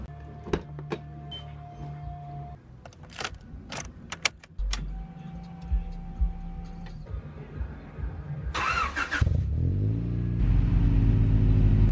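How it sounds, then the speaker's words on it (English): A Honda Prelude (5th gen, BB6) engine cranks and catches near the end, settling into a steady idle after assorted clicks and mechanical sounds inside the car, following alternator and AC compressor replacement. "time to start the car up"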